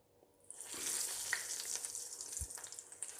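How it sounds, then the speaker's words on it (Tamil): Crispy corn cheese balls coated in bread crumbs hiss in hot deep-frying oil, two or three at a time, the sizzle rising quickly after a quiet start and continuing as a soft, even crackle. "இப்போ நம்ம 2-3 ஒன்றா போட்டு ஃப்ரை பண்ணிக்கலாம்"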